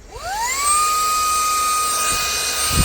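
The small motor of an AUHMA 20,000 Pa cordless car vacuum cleaner spins up with a rising whine and then holds a steady, high-pitched hum with an airy rush, close and continuous.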